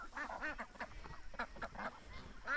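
Pekin ducks quack repeatedly at feeding time, a flock of nasal, rasping calls overlapping in quick irregular bursts, close but fairly quiet, with no talking.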